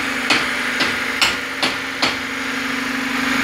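A Honda Civic engine runs after a cylinder head gasket replacement, giving a steady close hum with a few regular ticking knocks and no talking.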